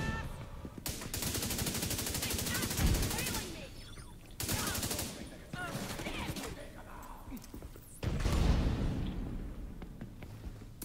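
Rapid bursts of automatic gunfire aimed at a player in a shooter game, loud and close, in three dense volleys with short gaps between them and a voice speaking faintly underneath.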